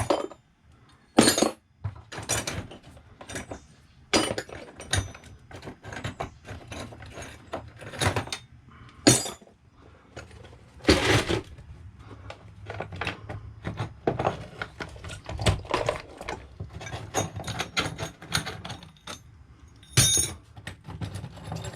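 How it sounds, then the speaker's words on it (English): Metal wrenches, ratchets and a knife are handled and sorted, giving repeated sharp clinks and clanks at an irregular pace, close and fairly loud, with brief pauses between bursts. "There's some more wrenches and ratchets and a knife."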